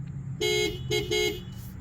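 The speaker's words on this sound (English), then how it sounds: "I'm going to honk the horn in 3, 2, 1." Two short horn honks from a 2025 Honda Civic Sport Touring Hybrid close by, the second a quick double toot, over a low idling engine hum.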